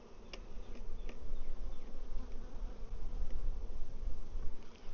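Honey bees crowd inside a hive with its entrance opened wider, giving a loud, close, swelling buzz that rises and falls in waves without speech.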